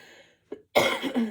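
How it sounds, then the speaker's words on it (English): A sharp, harsh cough bursts out after a brief throat sound, loud and close, with a couple of rough follow-up hacks. "still got that stupid cough"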